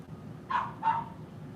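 A dog barks twice in quick succession at a moderate distance, two short muffled woofs against a quiet background.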